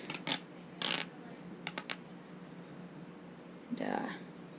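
Sheet material torn by hand along its seam, starting from a small hole, for a stick insect nymph enclosure: short ripping and scratching bursts spaced apart, close by and moderately loud, with a longer tearing rasp near the end.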